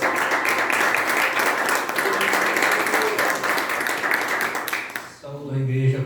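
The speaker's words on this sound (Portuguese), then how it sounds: "Palmas para Jesus." A church congregation claps together during a Sunday worship service, dense sustained applause filling the room for about five seconds before it cuts off and a sung or spoken voice begins.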